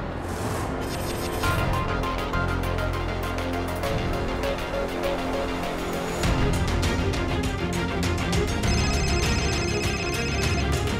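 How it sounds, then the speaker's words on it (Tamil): A mobile phone rings nearby in a scene from a Tamil television drama episode, its tonal ringtone melody repeating steadily for several seconds with no talking over it. "அவங்க ஃபோன் சத்தம் இங்க தான் கேக்குது."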